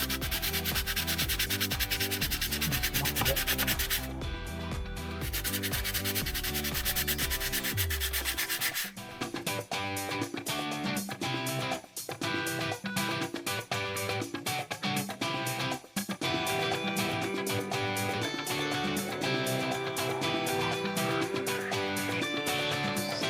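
A governor part from a Cummins VT300 V8 diesel fuel pump is rubbed by hand on 320-grit wet-and-dry paper, giving a close, steady run of rhythmic scratchy strokes that continues throughout.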